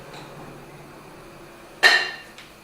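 A plate is set down on a kitchen scale with a single sharp ceramic clink near the end, after quiet room tone.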